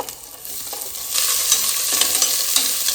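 Onions frying in a pan while being stirred, a steady bright sizzle with soft scraping strokes throughout, close and continuous with no voices.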